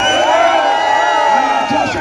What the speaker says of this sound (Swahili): Wapi makofi ya Georgie?